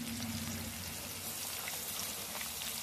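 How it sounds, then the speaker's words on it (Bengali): Nigella seeds and green chillies sizzling in hot oil, a dense, loud, continuous crackle and hiss with no pauses, close up and alone without any talk. "এবার দিয়ে দিলাম কালো জিরে, কাঁচা লঙ্কা ফোড়ন দিলাম।"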